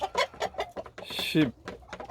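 A golden rooster and an Ogol chicken share a coop with a young intruding rooster, giving a rapid series of close, loud clucks and squawks with a longer strained call in the middle.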